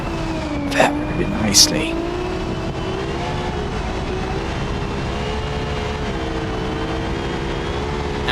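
Formula Three race car braking and turning during second practice at the Belgian Grand Prix at Spa, its engine note sliding down as it slows and then holding steady, heard under continuous commentary.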